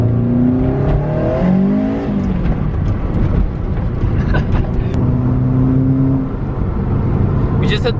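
A loud turbocharged Subaru WRX engine with aftermarket headers revving and rising in pitch, with whining turbo tones sliding up and down and a voice speaking over it.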